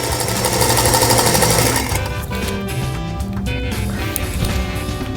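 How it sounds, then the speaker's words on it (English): A sewing machine stitches quilt panel pieces together, a steady fast mechanical whir with a rhythmic needle clatter running loud throughout, easing slightly partway through. "we're ready to sew the third piece onto the first half"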